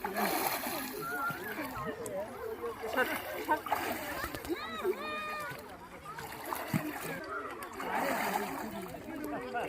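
Several people wading into river water at a temple bathing spot, with continuous close splashing and sloshing, loud throughout while voices talk and call over it.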